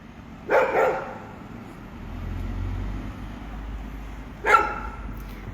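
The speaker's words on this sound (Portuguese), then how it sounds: "cachorro não para de latir" A dog barks twice, several seconds apart, in short bursts over a low steady hum of nearby road traffic in a residential area.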